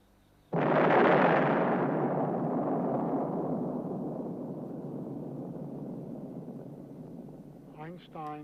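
A huge desert explosion from the first atomic bomb test, a sudden loud blast that swells into a long rumbling roar and slowly fades over several seconds, with a voice briefly speaking near the end.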